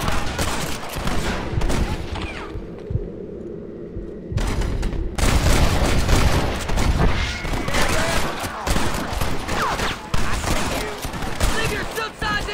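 A loud gunfight in Red Dead Redemption, with bursts of close gunshots and heavy booms, a short lull, then more sustained firing mixed with shouted voices.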